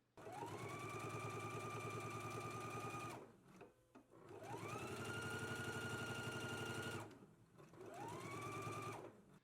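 A sewing machine top stitches a dress seam, whirring steadily at speed in three long runs separated by short pauses, close and clear with no talking.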